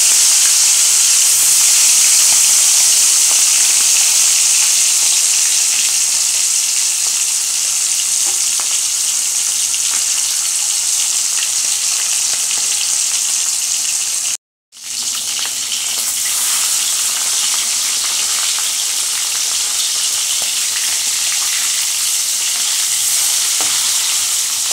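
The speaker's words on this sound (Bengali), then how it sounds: "একেবারে ওভেনটাকে সিমে করে দিয়ে লাল লাল করে ভেজে নিয়েছি" Hilsa fish frying in a pan over a low flame, a long steady close sizzle of oil with soft crackles, briefly cut to silence midway before the hiss resumes, no speech.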